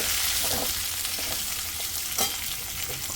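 Okra and golden-browned onions fry with chilli powder, turmeric and salt in a pan, a close, continuous sizzle with occasional stirring scrapes.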